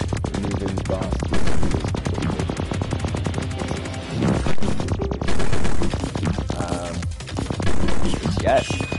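Rapid machine-gun-like shooting in the PS4 game Futuridium EP Ultra rattles continuously, with louder bursts every few seconds over the game's ongoing sound.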